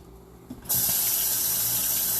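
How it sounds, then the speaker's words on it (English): A kitchen tap is turned on for a quick hand wash during home cooking, and after a brief quiet moment the water bursts into a loud, steady, close rushing stream that continues to the end. "Quick hand wash."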